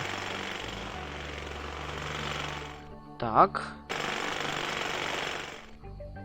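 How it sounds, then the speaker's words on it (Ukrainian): Road repair works in the SimCity city-building game make a steady mechanical jackhammer-like clatter that runs loud and continuous, breaks off briefly while someone speaks, then resumes before fading out. "Ремонтні такі роботи і дорога проведена."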